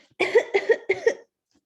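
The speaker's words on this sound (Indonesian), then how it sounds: "Kalau batuk-batuk itu adalah cough." Three quick, close coughs in a row from one person, each a sharp burst, then silence.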